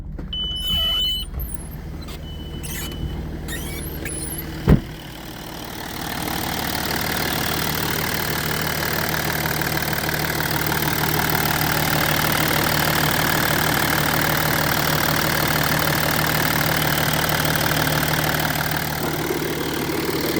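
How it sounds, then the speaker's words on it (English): A 2005 Audi A6 Avant with the 2.7-litre V6 TDI diesel idles, heard close from the engine bay with a noisy power steering pump. A click precedes a steady, even idle drone that holds to the end. "let's start up the car"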